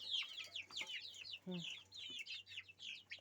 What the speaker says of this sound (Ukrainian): отакі вже курчата, дивіться